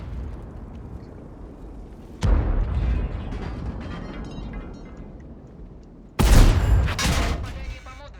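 Artillery shells strike an Object 907 tank in World of Tanks, two sharp, loud impact blasts a few seconds apart, each a sudden crack followed by a rumbling, crackling tail over a low engine-like drone.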